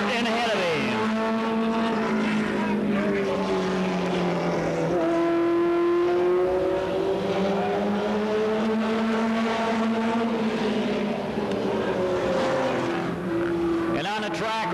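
A Pontiac stock race car runs a qualifying lap on an oval track, its engine droning and rising and falling in pitch as it circles, steady and moderately loud throughout.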